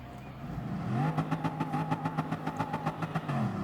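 Bugatti Veyron race cars launch from a standing start in Gran Turismo Sport at Lago Maggiore, engines revving up with rising pitch and a rapid pulsing rhythm as several cars accelerate away together, loud and steady.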